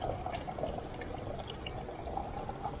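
Water pours steadily through a water filter during an overnight backcountry hike, a continuous, fairly close rushing trickle that holds an even level for about three seconds with no talking.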